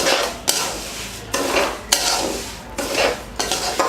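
Lapsi being roasted and stirred in a pan over medium heat: repeated loud, rasping scrapes of a spoon against the pan come in a steady rhythm every half second or so, over a soft sizzle.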